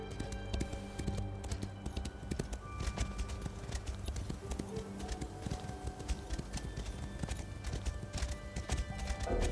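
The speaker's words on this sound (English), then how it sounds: "You're running on a horse, what's wrong?" Horse hooves galloping in the video game Elder Scrolls Online, a rapid run of clip-clop hoof beats layered over dense game sound and music, fairly quiet throughout.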